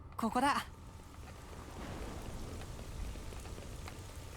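Steady rainstorm in the Xenoblade Chronicles Future Redeemed video game, a dense, even patter of falling rain that holds throughout, with a brief voice-like sound at the very start.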